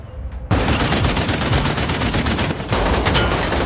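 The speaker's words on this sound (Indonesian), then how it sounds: "Jinmen membalas mereka dengan senjata mesinnya." Machine gun fire bursts out in an action film, a loud, dense, continuous rattle of rapid shots after a brief quiet start, with a short dip before the firing resumes.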